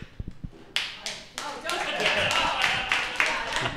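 Scattered claps from a small live audience at a geek-themed comedy show, starting as a few isolated taps and then building into steady, moderately loud clapping with some voices mixed in.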